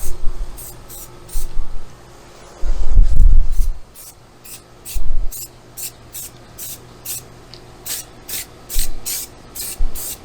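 Repeated short hissing bursts of an aerosol spray can painting a gray water tank valve outdoors, evenly spaced, with low wind rumble and a few thumps in between.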